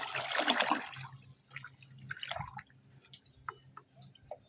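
Potash solution for garden plants is stirred in a container, giving a burst of sloshing liquid followed by scattered close drips and small splashes with no talk.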